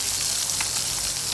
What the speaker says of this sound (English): Yeah man, the fish them are fry nicely.